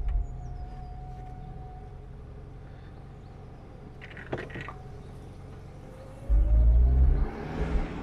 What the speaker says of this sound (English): Let's drop the bonnet, go for a drive.